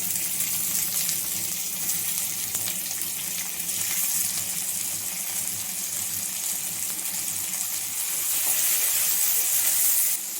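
Tomatoes fry in a hot pan, giving a soft continuous sizzle and hiss, steady and fairly quiet throughout, with no voices over it.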